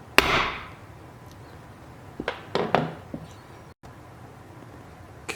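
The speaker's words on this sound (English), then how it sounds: "good, hard, quick hit after you've placed it exactly where you want it." A hammer strikes a metal stamp in one hard, sharp hit, followed a couple of seconds later by a few lighter taps, close and clear in a quiet room.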